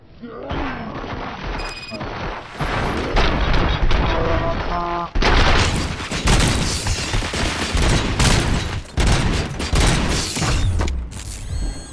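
A shootout in RoboCop: Rogue City, with rapid bursts of gunfire and mechanical clanks and ratcheting, loud and dense, mixed with game voices and effects.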